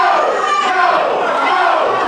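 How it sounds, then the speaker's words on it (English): Wrestling crowd at a Gatecity Battle 2019 match chanting together near the ring, a loud, steady mass of voices rising in unison with no break throughout. "Crowd here chanting no"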